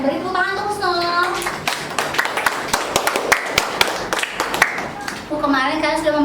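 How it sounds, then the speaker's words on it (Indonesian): A small group, likely a classroom of students, claps together in a few seconds of close, sharp, uneven hand claps, with voices speaking just before and after the clapping. "Beri tepuk tangan untuk Husnul."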